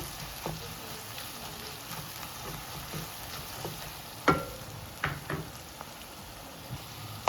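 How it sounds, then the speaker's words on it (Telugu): Onions frying in a pan for a dried shrimp gongura curry, a soft steady sizzle with scattered clicks and a few scraping stirs of a spoon, fairly quiet and close. "ఈ విధంగా ఫ్రై చేసుకుంటే మంచిగా ఉల్లిపాయలన్నీ చక్కగా యాగాలి"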